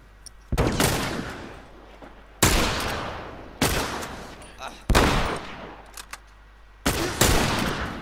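Five loud, close gunshots in The Last of Us ring out one at a time, each with a long echoing decay, separated by a second or more of near silence.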